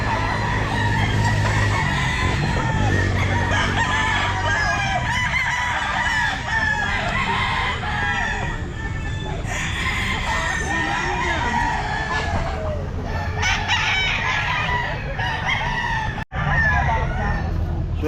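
Sweater gamefowl roosters at a crowded pet market crow loudly and repeatedly, several birds overlapping, with clucking and a steady buzz of market chatter and people talking underneath.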